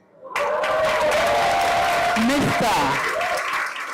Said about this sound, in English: put your hands together. Rub them. Appreciate. Clap for the CEO of Braeburn, Tanzania